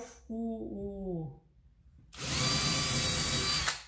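A power drill bores a 10 mm guide hole through wood while a lazy susan turntable is fitted, its loud steady whine running for the last half of the clip after a short stretch of speech.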